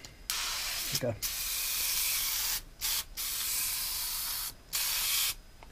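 Paint stripper is sprayed onto a plastic part from a 1967 VW Beetle in several long, loud hissing bursts separated by short pauses, with a brief spoken remark between sprays.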